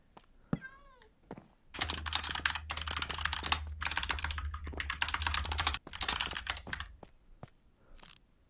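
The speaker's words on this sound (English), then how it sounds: "I can hear you typing." Rapid clicking keystrokes on a computer keyboard come in bursts of several seconds, close and clear. A short cat meow is heard near the start, and there is a low hum behind the typing.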